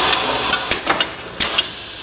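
A Coretech CM10/60 semi-automatic core cutter runs with a steady mechanical hum, broken by several short sharp clicks or knocks as it cuts small pieces of 1 to 6 inch core.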